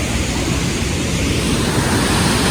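Water plunging down a waterfall in Jharkhand gives a loud, continuous rushing roar, broad and unbroken, heard close with a little wind buffeting and no talking.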